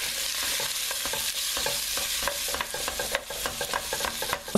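Onions, garlic, thyme and a little curry sizzle in oil in a saucepan, a steady broadband frying hiss with scattered scraping stir clicks, close and moderately quiet, no voices.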